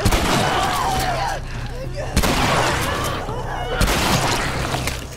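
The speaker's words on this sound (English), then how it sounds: "Get your shotgun out." Shotgun blasts in The Last of Us: three loud, booming shots roughly evenly spaced, each followed by a decaying rumble over continuous dense game noise.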